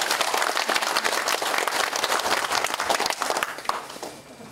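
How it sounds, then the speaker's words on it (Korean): An audience at an academic conference claps for the chairman of a scholars' association, a dense, lively round of applause that holds steady and then tapers off near the end. "우리 저 문소회 회장님이신 김주백 회장님께 박수 한번 쳐드리죠"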